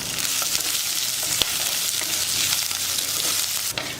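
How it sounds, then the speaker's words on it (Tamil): Onions sautéing in a pan with curry leaves, dried red chillies and garlic, a steady close sizzle with occasional stirring scrapes and a sharp clink of the spoon partway through. "பாருங்கள் வெங்காயம் எல்லாம் நல்லா வதங்கிடுச்சு"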